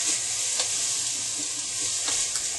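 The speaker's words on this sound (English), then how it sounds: "you just get that all incorporated with the onions" Boca meat substitute and onions sizzle in a pan while being stirred, a soft, steady frying hiss with small scraping stirs, near and moderately quiet, with no talk.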